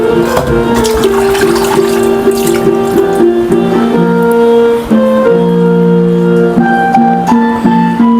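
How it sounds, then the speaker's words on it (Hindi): Waste water from a household water filter pours steadily into a container, a continuous running-water splash with ringing tonal resonances as it fills, loud and close with no talk. "ये जो पानी जाता है हमारा फिल्टर का, मैं इसको गमलों में यूज़ करूँगी"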